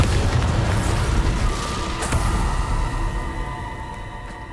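A Bombarda spell explosion in Hogwarts Legacy: a deep, loud boom hits at once and then rumbles and fades slowly over several seconds, with a faint ringing tail and no talking.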